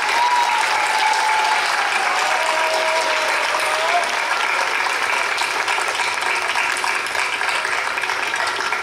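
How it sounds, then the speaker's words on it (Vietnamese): A congregation at a children's Christmas Eve Mass claps in a long, loud, continuous round of applause, many hands blending into an even wash that persists throughout. "Cả cộng đoàn chúng ta cùng chúc mừng lẫn nhau bằng một tràng pháo tay."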